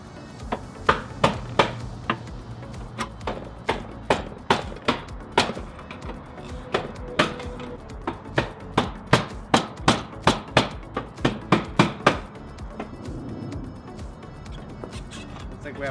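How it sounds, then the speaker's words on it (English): A hammer smacks a screwdriver to cut the spot welds on a Lexus IS300 fender, giving a long series of sharp metallic strikes at an uneven, quickening pace. Each hit sounds close and distinct against a quiet background. "screwdriver or something that you can actually smack it and it'll cut the weld and just take that piece off"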